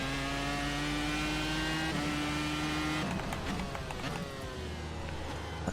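Car engine on red marked tires, droning loudly with steady harmonic tones that shift as the revs change, ending in rougher, choppy engine noise near the close.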